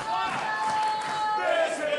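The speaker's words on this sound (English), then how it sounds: "Listen to this crowd here!" Wrestling crowd at a Canadian Wrestling Coalition show cheering and roaring after a high-flying match, a loud sustained din with an excited commentator talking over it.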